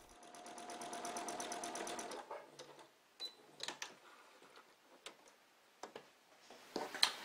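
A sewing machine stitching a fabric cuff bracelet runs in a fast, even ticking burst for about two seconds, then stops, leaving scattered quiet clicks and handling knocks nearby.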